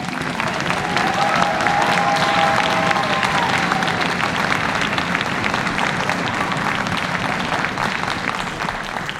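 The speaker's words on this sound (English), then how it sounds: "round of applause for Kadiana." A crowd at a spring concert by El Sistema Somerville applauds warmly, a sustained, even roar of many hands clapping for around nine seconds, with some murmured voices mixed in.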